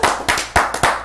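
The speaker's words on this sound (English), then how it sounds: "give a big round of applause for my boy WattsHomieQuan real quick" Four sharp claps in quick succession, close and loud, from a single person or a small group rather than a full crowd, with no talking.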